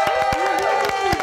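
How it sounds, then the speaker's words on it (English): Maze Runner: The Scorch Trials cast members cheer, whoop and applaud in a VIP lounge at San Diego Comic-Con 2015: a short, loud, close burst of clapping and shouting voices. "You guys are the first cast to cheer so hard for yourselves"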